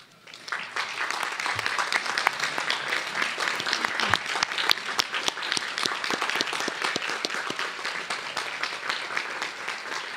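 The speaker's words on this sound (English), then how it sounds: "urn the microphone back over to Mrs. Rogers, please join me in one more round of applause for our student scholars and our teacher honorees tonight." Audience applause for parents at a school board meeting, steady clapping from a crowd in a hall that starts abruptly and continues at an even level for about ten seconds.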